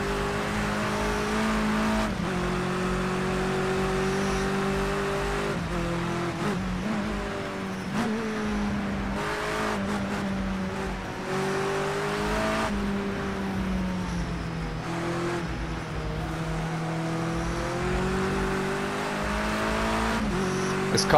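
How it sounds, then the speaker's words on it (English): Touring cars race on a wet Bull Ring track in Project Cars 2, with a loud, sustained engine drone that shifts pitch through gear changes and revs, alone without talk. "This car feels so nervous on the brakes, but it's actually really good fun to drive."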